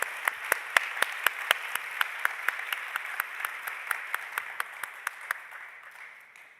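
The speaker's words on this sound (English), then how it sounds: "please a round of applause for Dario Liguti, Susanne, Yves, and Inga." A conference audience at a closing session applauds in a steady, moderately loud ovation, with a few sharp individual claps standing out in a regular rhythm before it tapers off.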